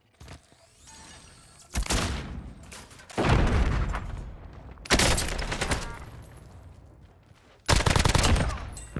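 Bursts of gunfire and explosions from the game Call of Duty: Modern Warfare, after a grenade is thrown; four loud, sudden blasts of rapid fire with quieter rumbling stretches between them.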